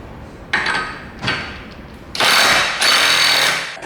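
Loud bursts of an impact wrench zapping on the axle nuts of a Mitsubishi Evo 8, two short hits followed by two longer sustained rattling runs, close and harsh.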